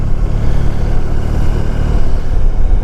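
A 1994 Honda ST1100 touring motorcycle engine running steadily while riding, a loud, continuous low drone with constant rumble and wind, no voices.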